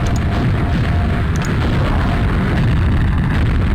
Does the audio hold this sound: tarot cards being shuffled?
no